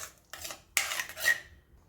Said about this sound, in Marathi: त्यानंतर त्यात गूळ घालायचा आणि छान परतवून घ्यायचं.